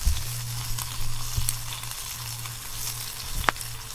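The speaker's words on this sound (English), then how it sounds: "I'm just going to brown that chicken thigh." A chicken thigh browns in a hot pan with a steady, close sizzle and spatter, broken by a couple of sharp clicks of a utensil against the metal.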